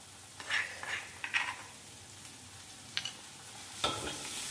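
Garlic and dried prawns fry in a pan, heard as a low steady sizzle punctuated by a few scraping stirs, with no talking.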